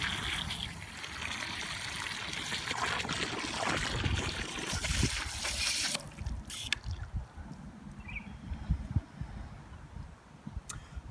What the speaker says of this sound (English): And just let this flow fill with water.